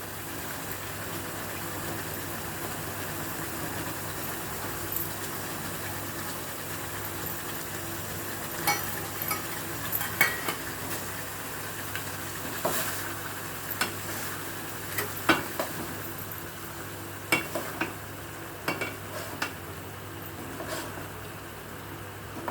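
Boiled eggs going into a thick, spicy egg curry gravy in a pan, giving a low, steady simmering sizzle with scattered soft clinks and stirring scrapes, fairly quiet and without talk.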